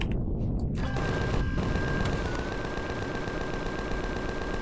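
Miniguns firing from a ship in the space survival game Empyrion - Galactic Survival, a loud continuous rattling stream of rapid shots that starts after a brief pause and keeps going without letting up.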